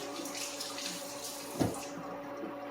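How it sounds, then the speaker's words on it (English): Fingers are rinsed under a running kitchen tap while shrimp are prepared, a steady, fairly quiet wash of flowing water with a short splash partway through. "So, all right, so I'm going to rinse my fingers here."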